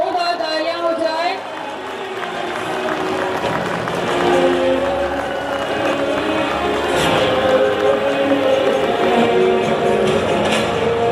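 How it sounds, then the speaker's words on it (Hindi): An audience applauds loudly at an Indian highway inauguration ceremony with a minister, a dense sustained clapping that swells midway and carries on with voices over it. "एक बार जोरदार तालियां हो जाए।"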